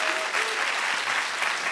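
A church congregation gives steady, dense applause at a Passover dawn prayer service, a soft continuous wash of many hands clapping together with no speech over it.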